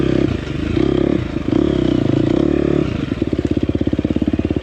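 A 2024 KTM 250XCF dirt bike rides a trail in its hotter engine map. The engine is loud and close, droning at a steady pitch and then changing to a fast, pulsing rhythm of revs.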